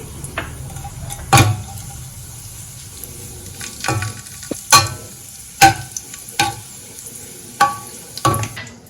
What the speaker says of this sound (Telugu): ఇప్పుడు ఇందులోకి తీసి పెట్టుకున్న కిస్మిస్ కూడా వేసి వేపుకుంటున్నానండి